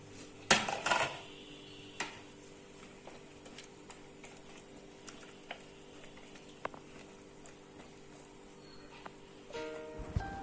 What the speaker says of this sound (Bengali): এবার কিছুক্ষণের জন্য ঢাকনা দিয়ে দিচ্ছি